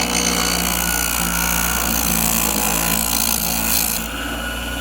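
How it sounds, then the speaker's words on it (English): Wood lathe spinning at maximum speed while turning a firewood blank into a bud vase, giving a loud, steady mechanical whir with a rough, gritty edge that drops slightly in level near the end. "We can go to max speed on our lathe."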